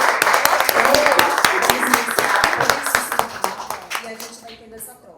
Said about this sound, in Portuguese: hoje eu queria pedir para vocês uma salva de palmas maravilhosa para elas